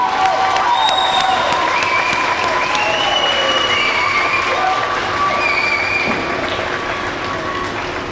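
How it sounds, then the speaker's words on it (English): Sustained, loud applause and cheering fill a graduation ceremony at Sinte Gleska University, with whistles and shouts rising over the steady clapping throughout. "Give them a big round of applause for walking this journey with you."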